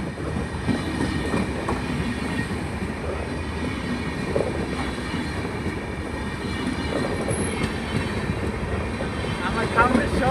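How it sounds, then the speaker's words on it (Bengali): A train from Assam on the New Changrabandha line on the Cooch Behar route rumbles past on the track nearby with steady rolling noise and some clatter, while people talk over it. "এই আসাম থেকে আসলো ট্রেনটা"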